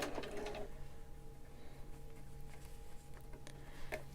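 A sewing machine makes a short burst of stitches on a fitted fabric face mask, a quick rapid whir near the start followed by a faint mechanical hum and light ticks, quiet and close with no voices.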